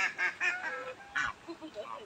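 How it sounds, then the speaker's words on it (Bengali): Geese by a village pond honk in a quick series of loud, nasal calls, several in a row then a few scattered ones, close by and without any talk. "এটা রাজহাঁস,"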